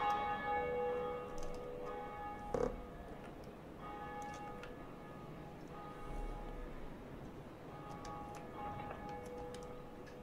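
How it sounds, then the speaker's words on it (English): Bell ringing in the video game Dark Souls: a large tolling bell with long sustained, shimmering overtones, a sharp strike early on and further fainter tolls over a steady low game ambience. "I'm ringing the bell. Can you hear it?"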